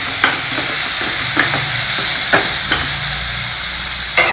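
Boiled split moong dal being stirred in a pan, with a steady sizzle underneath and a few soft, irregular scraping taps from the spoon, close and fairly loud.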